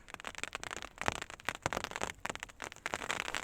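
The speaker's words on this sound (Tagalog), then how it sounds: "pakinggan na lang ang sounds ng ulan" Rain falls in a dense, crackling patter of many close drops, uneven and fairly loud throughout with no talking.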